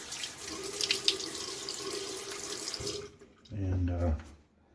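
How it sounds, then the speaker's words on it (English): Tap water runs steadily into a bathroom sink before a shave with a Gillette Aristocrat safety razor. It is close and continuous, then gives way to splashing and handfuls of water cupped onto the face. "I'm going to go ahead and throw a little bit of water on my face."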